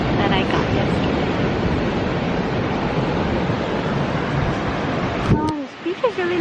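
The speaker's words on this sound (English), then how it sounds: "The waves are so big." Big ocean waves break and surge steadily at Nacpan Beach, a loud, constant roar of surf lasting throughout, with the wash easing and a few brief sounds near the end.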